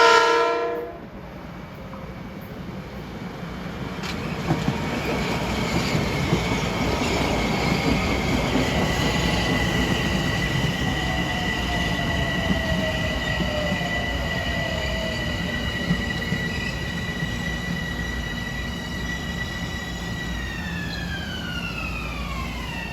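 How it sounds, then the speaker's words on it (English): A Metro-North M7A commuter train, number 749, pulls into Ardsley-on-Hudson station with a short horn blast, then a long steady rumble and whining electric motors that descend in pitch as it brakes, with faint wheel squeal. "coming in at 5:14 is train 749 from Grand Central to Croton Harmon"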